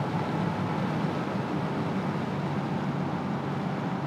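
Wind roars steadily inside a Porsche 959 driven flat out on the Autobahn at around 240, a dense, unbroken rushing noise mixed with road and engine rumble, loud and constant throughout with no voices.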